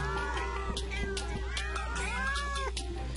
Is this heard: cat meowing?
yes